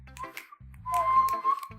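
A person whistles by sucking air inward, producing a thin, wavering tone that lasts about half a second over steady background game music.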